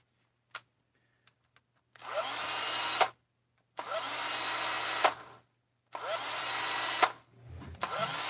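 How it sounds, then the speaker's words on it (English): A power drill bores a hole in a carburetor cover in three separate bursts of about a second each. Each burst is a loud, harsh grinding whir, with short quiet gaps and a few faint clicks before the first. "you need to drill a hole in this cover right here"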